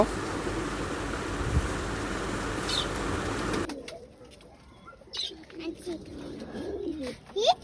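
Pigeons coo softly nearby beside a pigeon farm amid wind noise, then the background quiets and a few chirps and murmuring voices come through.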